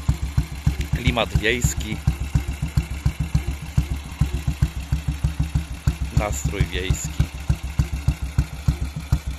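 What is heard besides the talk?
motorcycle engine idling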